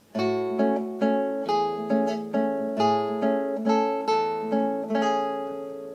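A classical guitar plucks a short melody from Tárrega's Gran Vals, notes ringing one after another at an even, unhurried pace, played alone.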